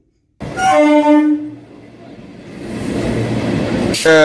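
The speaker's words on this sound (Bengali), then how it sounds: "ট্রেনে উঠে পড়েছি" A local train bound for Namkhana blasts a loud, sustained horn for about a second, then its steady rolling rumble builds, and a second horn blast cuts in right at the end.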